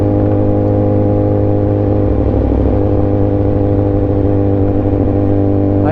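BMW S1000RR sport bike engine while riding, a loud, constant droning hum with strong steady engine tones and slight rises in revs, close and continuous with no speech.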